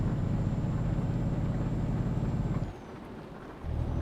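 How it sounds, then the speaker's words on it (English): A truck engine in Euro Truck Simulator 2 drones loud and steady at high revs, then drops briefly to a quieter idle before the engine note returns. "I know I shouldn't be revving so high."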